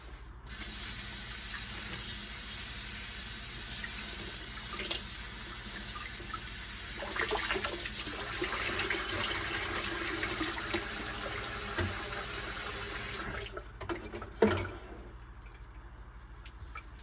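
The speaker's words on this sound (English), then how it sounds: "You rinse the baby carrots in the bag." Baby carrots are rinsed in their bag under a kitchen faucet, with a steady rush of running water and a thicker, busier splashing midway. The flow stops near the end, followed by a few brief rustles and clunks.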